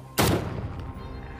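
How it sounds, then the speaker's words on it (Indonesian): A single sniper rifle shot in a film fires at a distant target. One sudden, loud blast rings out and then rolls away into a long, fading reverberating tail. "Akhirnya dalam percobaan ketiga, Bob Lee berhasil menembak tepat sasaran."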